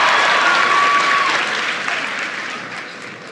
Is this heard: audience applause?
yes